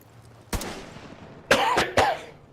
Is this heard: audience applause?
no